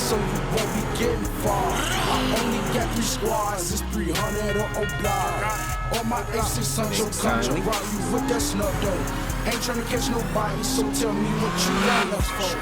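A Demon-swapped Dodge Charger Hellcat in a GTA video game corners hard, its engine roaring continuously with tire squeal and skidding over game music, loud and steady throughout.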